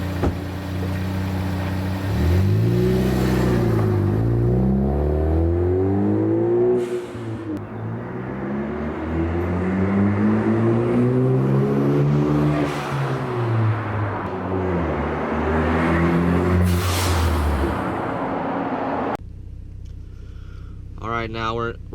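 A 2013-2016 Ford Focus ST with a COBB catback exhaust is revved several times, loud and close, each rev climbing and dropping back to a rumbling idle, with a short burst of voice near the end.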